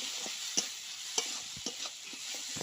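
Tomato with salt, turmeric and chili powder sautéing for a prawn curry, a steady soft sizzle broken by several sharp scraping clicks of a spoon stirring against the pan.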